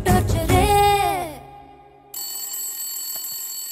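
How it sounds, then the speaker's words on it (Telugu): A telephone rings loudly in a Telugu comedy scene: a burst of bright electronic ringing at the start fades out, followed by a steady, thinner tone that holds to the end. "ఫోన్ రా మాట్లాడు"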